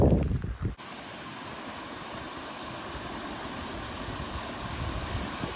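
Wind roars steadily across a wet, cold moorland near March Haigh Reservoir, a dense broadband rush after a short burst of louder buffeting at the start, with no voices.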